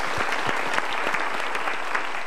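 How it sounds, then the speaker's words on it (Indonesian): A studio audience at a motivational talk show breaks into steady applause, a dense wash of clapping with some distinct close claps. "Kita berikan tepuk tangan dulu."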